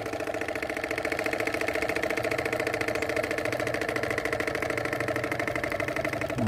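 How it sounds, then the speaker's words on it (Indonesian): Small engine of a miniature rice-field tractor, built with a PVC cart in tow, idles steadily while warming up, its fast even knocking pulse running close and continuous with no voices. "Kita panasin mesin dulu lur."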